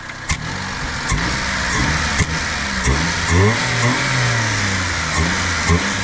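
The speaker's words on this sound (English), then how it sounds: "I guess we can give it a little rev right now." A small kei truck engine revs up and down several times, rising and falling in pitch, close by and fairly loud, with sharp clicks between bursts.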